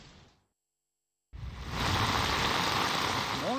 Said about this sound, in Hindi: रावलपिंडी इस्लामाबाद में मूसलाधार बारिश से जल थल एक हो गया।